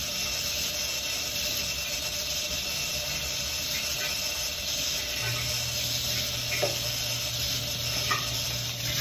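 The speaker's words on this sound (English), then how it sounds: "While the pot is getting filled" Warm water runs from a tap into a pot, making a steady, soft rushing stream that continues evenly throughout without speech.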